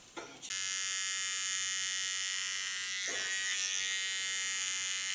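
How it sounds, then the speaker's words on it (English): An electric hair clipper buzzes loudly and steadily while shaving a nape tattoo design, starting after a brief rustle and holding a constant high whine, with a short blade-contact change midway. "I can give her a nice clipper tattoo"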